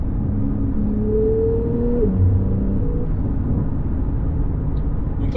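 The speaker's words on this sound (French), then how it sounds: "On a un retour quand même présent à l'échappement, qui reste léger une fois à l'intérieur du véhicule" Steady low engine rumble and exhaust drone heard from inside the cabin of a Porsche 911 GTS, muffled and continuous with a slight rise in pitch partway through.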